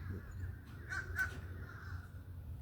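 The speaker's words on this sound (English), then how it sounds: "Even these crows out here, you hear them." Crows cawing outdoors, a couple of harsh caws close together near the middle of the clip, moderately distant over low background rumble.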